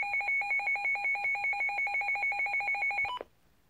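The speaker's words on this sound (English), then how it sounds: "Siren test, just like the WR100, it basically sounds like this." Midland WR300 weather radio sounding its siren test alert, a rapid pulsing two-tone electronic beep repeating steadily for about three seconds, then cutting off abruptly with a short lower blip.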